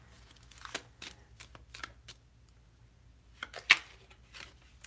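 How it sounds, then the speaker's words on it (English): Tarot cards being shuffled by hand in short crisp riffling bursts, separated by pauses, with one sharper louder flurry near the end; close and clear against a quiet background. "while I shuffle for singles"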